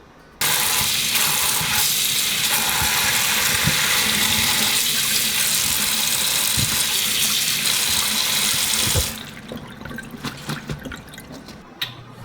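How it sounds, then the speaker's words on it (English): Water runs steadily from a sink tap as fresh garden tomatoes are rinsed beneath it, a continuous broadband splash that cuts off near the end, leaving a few faint drips and clinks. "Right now we're just going to wash these up in the sink"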